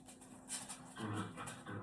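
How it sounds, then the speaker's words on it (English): A dog pants while playing with a cat indoors, giving quick, soft breathy huffs with a faint whimper, close and quiet, no talk. "you're going to hear the cat and dog now playing"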